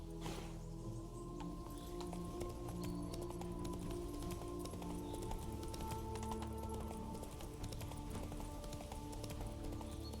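Hoofbeats of the horse Roach galloping in The Witcher 3, a steady rapid clip-clop rhythm running throughout at moderate volume.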